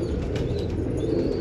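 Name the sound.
domestic desi pigeons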